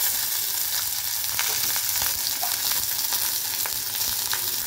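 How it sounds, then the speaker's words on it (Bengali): Fish frying in a small amount of oil over a low gas flame, a steady close sizzle with faint crackles and pops running throughout without speech. "এখন মাছটাকে ভাজি, গ্যাসটাকে একদম মানে লো করে দিয়েছি"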